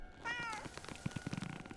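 A cat in a Junji Ito horror video game lets out one drawn-out, fairly faint meow, followed by soft clicking and shuffling noises, with no talk.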